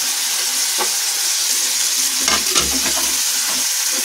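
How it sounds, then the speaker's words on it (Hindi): Eggplant stirred into masala frying in a pan for a dhaba-style baingan bharta, a steady loud sizzle throughout with scraping stir strokes in the second half, close up and without talk. "ये मसाला हमारा अच्छे से भून चुका है, मैं बैंगन ऐड कर दूंगी।"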